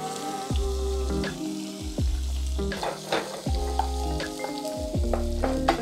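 Onions fry in butter and cooking oil in a pan on low heat, giving a steady close sizzle. Several sharp scraping strokes from stirring cut through it at regular intervals.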